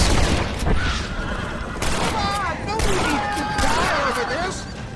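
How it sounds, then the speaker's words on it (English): Gunfire rings out in the Western video game Red Dead Redemption as horses get hit, bursts of sharp shots mixed with horse whinnies and neighs, with voices talking in between. "I accidentally shoot horses."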